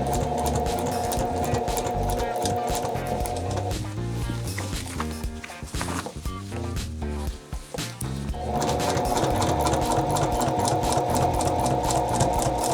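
A sewing machine stitches the collar seam of a tailored jacket, running in a loud, steady whir that drops into a rougher, slower stretch midway before the fast, even stitching resumes.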